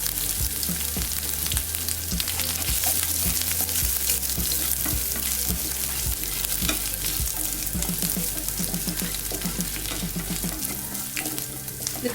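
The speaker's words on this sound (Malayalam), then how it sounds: "ഒരു 4-5 അല്ലി വെളുത്തുള്ളി. രണ്ടും ഒന്ന് ചെറുതായിട്ടൊന്ന് വഴറ്റിയെടുക്കാം." Four or five garlic cloves sauté in a pan over a very low flame, a continuous soft sizzle punctuated by repeated close scraping and stirring knocks of a utensil against the pan.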